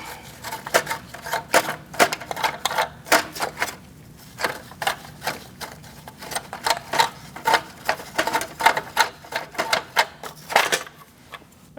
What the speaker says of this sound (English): we're going to remove our hubcap and lug nuts